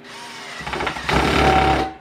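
A brief burst of a power drill spinning up and driving a screw into wood, its motor pitch rising and straining before cutting off.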